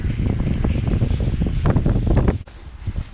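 Strong, constant wind off the North Sea on a wet day at Westduinpark and Zandmotor roars and buffets the microphone with a deep rumble, loud throughout and briefly dipping near the end.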